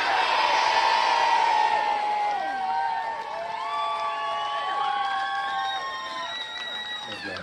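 A large outdoor crowd at a Pride event in a historic courtyard square cheers and shouts. A loud burst of voices and whoops fades into scattered yells and whistles, with people calling out over it.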